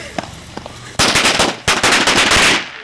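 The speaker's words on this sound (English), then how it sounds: "I actually have some firecrackers that I really want to use" Firecrackers go off in two rapid crackling bursts, loud and close, each a dense string of sharp pops lasting under a second after a brief quiet lead-in.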